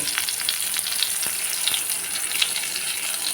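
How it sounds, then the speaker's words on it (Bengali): Dried red chili frying in hot oil, a dense, even sizzle with small crackling pops, close and continuous throughout. "এবার এই তেলের মধ্যে একটা শুকনো লঙ্কা কেটে দেব"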